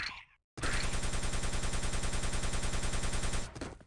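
A plasma gun fires in a video game as one unbroken, rapid, buzzing stream of shots that lasts about three seconds after a brief silence, loud and close with a harsh mechanical rattle.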